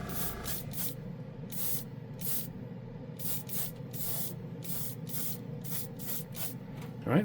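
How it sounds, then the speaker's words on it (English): Compressed air blasts dust off a Gundam plastic model kit in repeated short, loud hissing bursts of uneven length, close to the mic over a constant low background hum. "I'm taking some of the dust off by just blasting some air."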